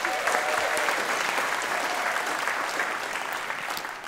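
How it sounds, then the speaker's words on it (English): Audience applause fills a hall steadily for about four seconds, dense even clapping at moderate volume with no voices over it. "Round of applause for Nikki."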